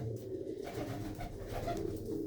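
Pigeons in a loft coo softly and continuously, low throaty murmurs overlapping at close range, quiet with no talking.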